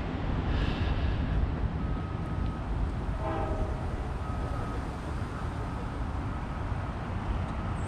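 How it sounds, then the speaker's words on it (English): A train rumbles past railroad crossings with steady, noisy wind-buffeted roar, while faint crossing-gate bells and a brief horn-like sound rise through the din. "you can hear all the crossing gates going down"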